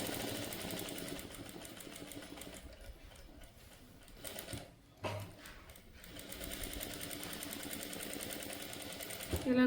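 Sewing machine stitching saree fabric into a dress design, a steady close mechanical whir with rapid ticking, briefly slowing and pausing midway before running on.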